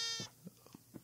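A sheep in Minecraft gives a short, quavering bleat that fades, followed by a few soft low knocks, faint and alone without talking.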